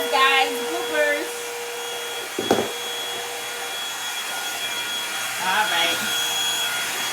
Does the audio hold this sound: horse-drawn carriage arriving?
no